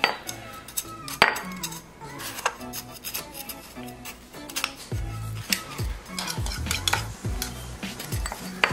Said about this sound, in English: once our butter is melted, I'm just gonna throw my brown sugar and start mixing it.